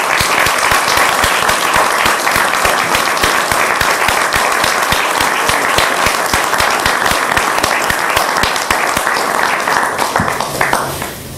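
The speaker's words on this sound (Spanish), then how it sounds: "les pido un aplauso para nuestro candidato a presidente y a gobernador." Sustained, dense applause fills a political assembly of the neighbourhood party CAS in Salto, a steady roar of many hands clapping that carries on without pause and thins slightly at the very end.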